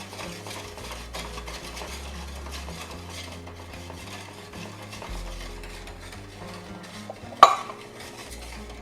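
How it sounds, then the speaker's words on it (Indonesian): Evaporated milk being stirred in a pot for an iced fruit dessert: a spoon scrapes and clinks steadily against the pot with a soft sizzle beneath, then one sharp metallic knock near the end. "Kemudian kita masukkan susu evaporasinya lebih dahulu. Ini harus diaduk terus ya, karena kalau enggak nanti dia menggumpal."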